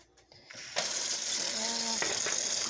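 Cold water running from a kitchen tap, starting with a few soft clunks before a steady, close gushing stream fills a cup and carries on to the end.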